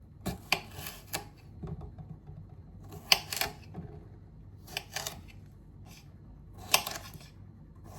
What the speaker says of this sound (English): I'm just going to cut up some bits of this cucumber.